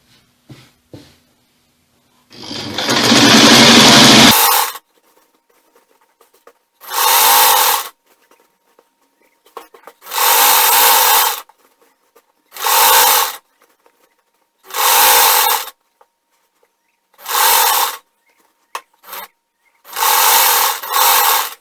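A sewing machine stitches the seams of a straight skirt, running in loud, close bursts of a few seconds each, separated by short silent pauses, about eight runs in all.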